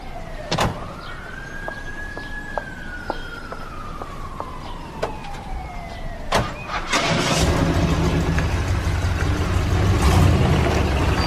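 A car engine turns over and settles into a steady low rumble that grows louder and fuller over the last few seconds as the car pulls away, following an earlier stretch with a rising and falling whine and sharp clicks.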